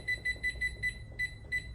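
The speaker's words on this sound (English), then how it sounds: "set the timer" A kitchen timer set while boiling pasta for a garlic pasta dish, giving a rapid series of about seven sharp, evenly spaced electronic beeps, close and clear with no talking.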